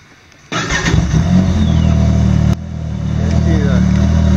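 A 4-stroke engine in a brand-new 2015 Yamaha Viper XTX LE snowmobile cranks and catches abruptly, then settles into a loud, steady close-up idle with a slight dip partway through.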